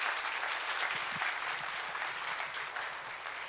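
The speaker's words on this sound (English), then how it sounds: "Can I get another round of applause for Michelle and Tanya?" Audience applause at the IDPD Edmonton 2015 event for two performers, a steady wash of many hands clapping, fairly soft and distant, sustained throughout without a break.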